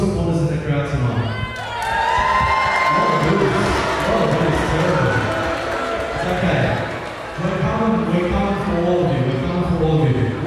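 A live crowd at an evening talk event on faith and football, with Bulldog supporters cheering and whooping loudly in broad swelling waves, close and filling the room, with some shouting voices mixed in.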